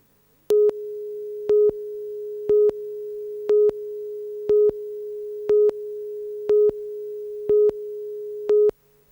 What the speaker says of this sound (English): Gilda Hayes' business phone was off the hook today.